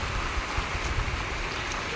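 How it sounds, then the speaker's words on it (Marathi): Steady rain falls during an early-summer storm, a continuous close hiss with faint low thumps, no talk over it. "हो बघ ना, पाऊस येतोय कसा"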